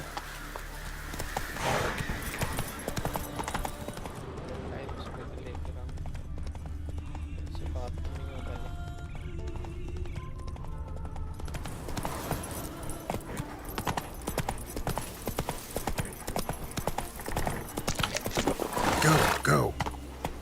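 Hooves of a horse clip-clop steadily at a gallop in The Witcher 3 video game, a continuous rhythmic beat that runs through the whole stretch while someone talks over it.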